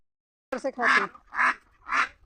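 A brief vocal sound, then three loud, close duck quacks in a steady rhythm.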